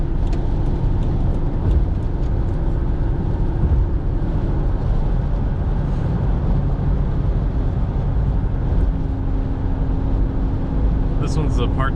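A 1992 Mitsubishi Pajero with a 3.0 V6 cruises near 3000 RPM at about 70 mph, giving a steady engine and road drone inside the cabin while someone talks over it throughout.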